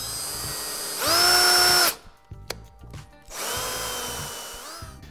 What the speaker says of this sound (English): I'm going to lay out and drill all of these holes